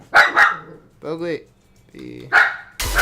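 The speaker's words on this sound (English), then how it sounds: "Oh, sorry about the dog guy." Dog barking close by in a room, a few sharp barks and a short growl in quick bursts, mixed with someone talking and a brief stretch of humming.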